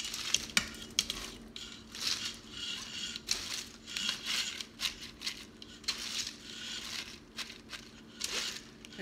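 Chopped cabbage, washed in a colander, tipped into a cooking pot, giving soft irregular rustles and light sizzling clatter as the pieces land and shift, fairly quiet.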